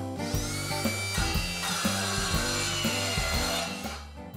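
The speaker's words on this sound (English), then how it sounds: "then trim the last plank to length" A saw trims a wooden floor plank to length, giving a continuous, loud rasping cut with steady rhythmic strokes that runs through nearly the whole stretch without any talk.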